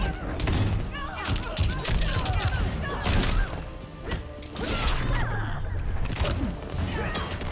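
A heavy impact from a Mortal Kombat 11 crushing blow lands in a tournament match between Sindel and Joker/Sonya, set among dense crashes, thwacks and whooshes of fighting-game combat, with loud effects running continuously throughout.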